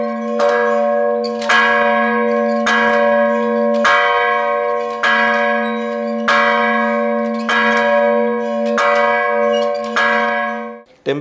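A large temple or church bell tolls loudly and steadily, about nine evenly spaced strikes each ringing into the next with a deep, sustained hum.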